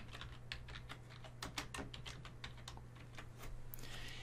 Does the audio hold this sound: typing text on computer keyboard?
yes